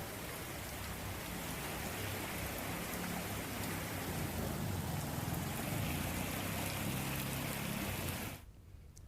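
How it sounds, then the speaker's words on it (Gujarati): Heavy monsoon rain pours down over villages in Amreli, a dense, loud, unbroken roar of drops on surfaces that fills the scene and then cuts off abruptly near the end. "તો સાવરકુંડલા, અમરેલી, લીલિયામાં ધોધમાર વરસાદ વરસી રહ્યો છે"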